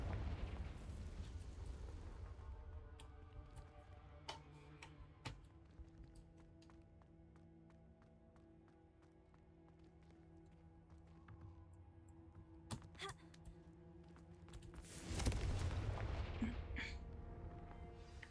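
The Confringo explosive spell in Hogwarts Legacy, with a rumbling blast at the start, a quiet stretch of scattered small pops over a low hum, and a second loud burst near the end.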